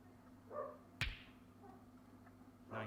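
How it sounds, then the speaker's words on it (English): A dog barks faintly from downstairs, a few soft distant yelps amid a quiet room with a sharp snap in between, no talk. "Probably hear the dog downstairs."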